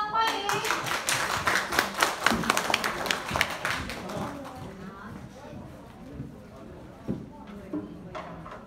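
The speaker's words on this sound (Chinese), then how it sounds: "掌声欢迎" Brief burst of hand clapping from a training-session audience, fairly close and distinct, fading away after a few seconds, with voices talking over it.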